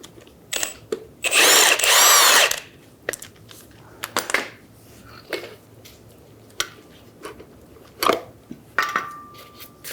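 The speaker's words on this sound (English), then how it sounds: "Using a 17mm socket, remove the nut." A power tool with a 17mm socket spinning off the nut on a rear shock absorber of a 2011-2014 Hyundai Sonata: one loud burst of whirring near the start, then scattered metallic clicks and clanks of the socket and parts.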